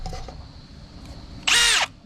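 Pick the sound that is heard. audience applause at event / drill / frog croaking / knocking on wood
drill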